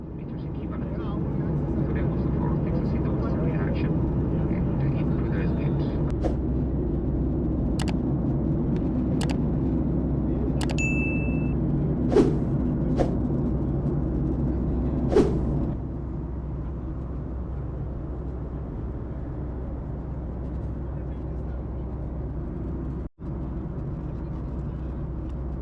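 Airplane cabin noise during a flight, a loud, steady low engine drone filling the whole stretch, with a few faint clicks and a brief chime partway through.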